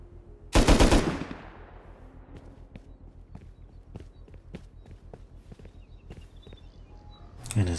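A gun with heavy recoil fires in a video game: one loud, close burst of rapid shots, then quieter rhythmic footsteps and clicks, ending with a short loud thump.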